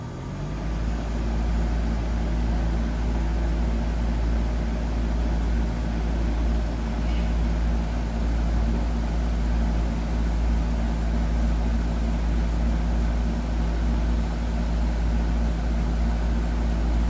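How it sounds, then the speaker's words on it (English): Nitrogen gas is let into a Trane heat pump system to break vacuum, producing a steady, loud, unbroken hiss that holds evenly for the whole stretch with a low rumble underneath and no voices. "Let some nitrogen on."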